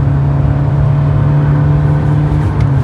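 Steady engine drone from inside a Kia Sonet HTX 1.5 diesel manual car at full power, a loud continuous low hum with slight wind noise and no voices.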